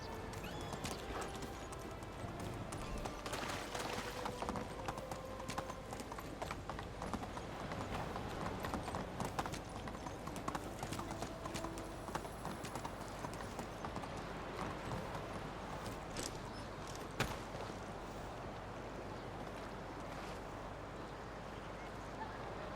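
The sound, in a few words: horse hooves clip-clopping while riding in Medieval Dynasty video game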